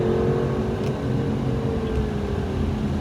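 A race car drives on light throttle through a corner at COTA, giving a steady loud engine drone with a faintly falling tone heard from inside the car.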